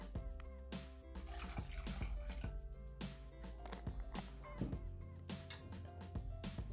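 Water is poured into a Thermomix TM6 bowl with sugar, pepper, salt and vinegar for sweet-and-sour rabbit. A steady, fairly quiet gurgling pour runs throughout over background music.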